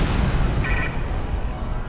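Starship cannon fire in the Star Trek Online video game comes as a dense, loud, booming blast of weapon noise that fills the whole short moment.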